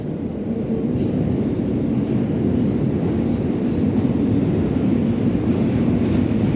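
A New York subway train rides along with a loud, continuous low rumble and rattle of wheels on track, steady throughout with no talk.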